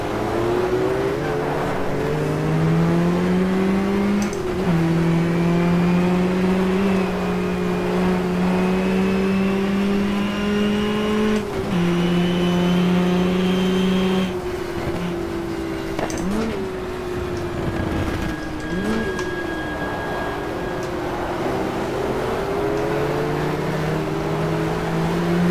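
Race car engines in the GTR2 racing game at Jarama during a 1994 two-hour race, including a front-engine rear-drive Porsche, droning steadily with repeated gear changes and rising revs, loud and continuous with no talk.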